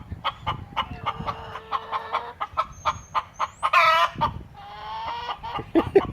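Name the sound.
hens clucking in the coop before laying eggs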